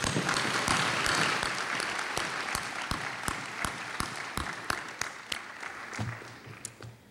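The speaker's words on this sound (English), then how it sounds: "Give yourselves a hand of applause." An audience applauds a graduating class at a celebration ceremony. Dense, sustained clapping starts loud, then slowly thins and fades, with individual claps standing out toward the end.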